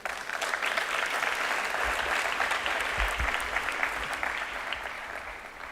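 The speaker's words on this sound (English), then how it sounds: "let's give them the last round of applause" A crowd gives graduates a final round of steady applause at a university graduation ceremony, dense clapping sustained evenly throughout at a moderate distance with no talking.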